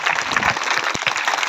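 Applause fills a Border Security Force civic action programme in a village, a steady, close burst of many hands clapping together with no talking over it.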